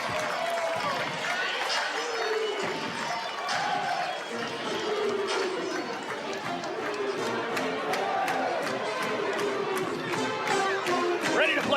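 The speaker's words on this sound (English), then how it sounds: "What a fantastic crowd, packed to the rafters tonight." A packed college basketball arena crowd in Valdosta, Georgia, during a Blazers home game against West Georgia keeps up a continuous roar of cheering and chatter, with squeaks and thuds from the court rising and falling through the din.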